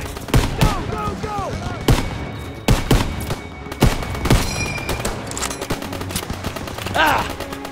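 Machine gun fire in the Call of Duty: WW2 video game, an attack on a barn, with rapid bursts and single loud cracks among shouted voices in a chaotic battle.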